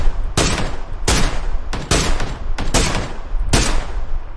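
Loud, close gunshots in the battle royale shooter PUBG fired at a vehicle's tires, six sharp cracks spaced roughly half a second to a second apart over a steady background rumble.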